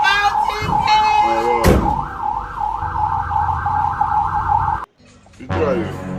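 A loud wailing siren sweeps up and down steadily, cutting out briefly near the end before resuming; a voice exclaims over it.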